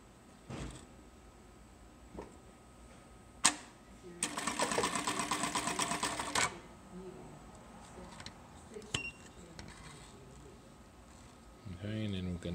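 An LK1900B industrial sewing machine stitches a wrap stitch on the end of a belt in one loud, rapid burst of about three seconds, with brief clicks and mechanical thumps before and after and quiet room noise between.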